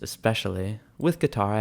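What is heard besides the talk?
No everyday noise stands out behind the speech.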